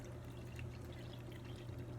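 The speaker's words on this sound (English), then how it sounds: "We're pouring it over the sink, because there's a" Homemade peppermint mocha is poured out over a kitchen sink, a faint steady splashing stream of liquid against a low background hum.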